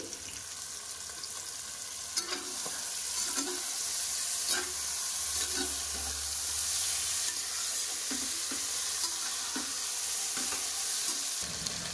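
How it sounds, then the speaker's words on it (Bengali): Fried onions and yogurt stirred in a hot pan give a steady, close sizzle, with soft spoon scrapes recurring every second or so throughout. "পেঁয়াজ বেরেস্তা, এবার দিয়ে দিচ্ছি পরিমাণ মতো দই"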